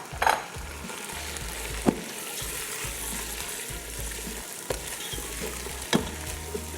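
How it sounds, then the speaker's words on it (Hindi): Chicken sizzles with spinach in a pot for palak gosht pulao, a continuous frying hiss broken by a few sharp clanks of stirring at intervals. "और चिकन को अच्छे से कर लेंगे फ्राई।"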